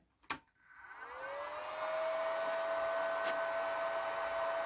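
A high-frequency transformer circuit is switched on after a sharp click, and a steady electronic whine rises and then settles into a constant tone over a broad hiss, loud and close with no talk.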